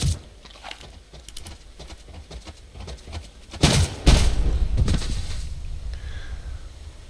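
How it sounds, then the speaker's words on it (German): Revolver and rifle shots while hunting a moose in the video game Subsistence: a few sharp, booming reports in quick succession midway, set against quieter ambient game noise before and after. "Zwei Schuss mit dem Revolver und einen mit dem Gewehr."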